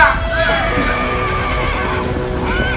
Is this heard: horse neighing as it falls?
yes